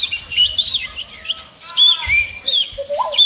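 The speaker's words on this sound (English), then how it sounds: "What I also really love is this atmosphere, the forest with the birds" Chirps and tweets of forest birds, voiced by a beatboxer in a battle routine, come as quick whistled calls and sliding high notes with short breathy pops between them.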